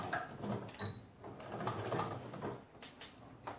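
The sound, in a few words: sewing machine stitching fabric coaster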